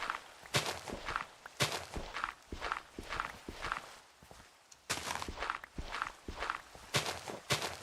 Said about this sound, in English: but I can hear some footsteps